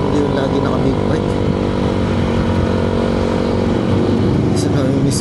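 A small motor engine drones loudly and steadily throughout, like a scooter being ridden, with a constant buzzing hum and rushing air.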